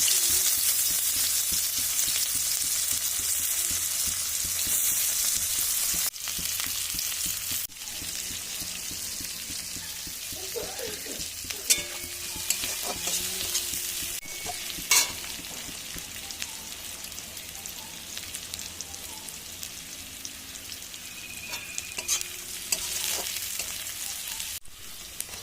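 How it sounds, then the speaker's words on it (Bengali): Chopped onions frying in hot oil with cumin seeds in a wok, a steady dense sizzle throughout with occasional clinks and scrapes of stirring, close and continuous with no talk. "এবার দিয়ে দিচ্ছি পেঁয়াজ কুচি"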